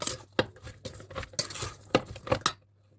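A spoon stirs a Thai spicy tongue salad in a bowl with fish sauce and toasted rice powder, giving soft, close clinks and scrapes against the bowl, irregular and fairly quiet, with no talk.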